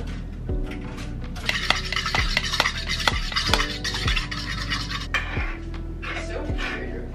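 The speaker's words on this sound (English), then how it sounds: "So I'm just gonna make two eggs, scrambled, and two pieces of toast." Two eggs being scrambled in a pan, with repeated scraping and clinking of a utensil against the pan in an irregular rhythm over faint sizzling, close up.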